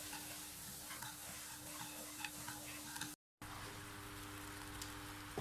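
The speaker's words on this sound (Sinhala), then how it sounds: "මම මේක හොඳට හැඳි ගාමින් පැණි කරගන්නවා" Red sugar and water are stirred in a pot on the stove as they cook into syrup: soft scraping and gentle bubbling over a low steady hum, cut by a brief gap of silence partway through.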